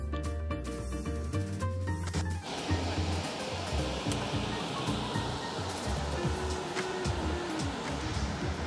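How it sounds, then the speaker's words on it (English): The Oikawa River in the Arashiyama area of Kyoto, near Togetsu Bridge, rushes in a steady, full wash of flowing water. It is close and continuous, with no voices. "This is Oikawa River."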